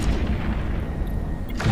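A spaceship weapons barrage fires in the space combat game EVE Echoes, a continuous rumbling roll of dense, low booming shots that fades off briefly at the end.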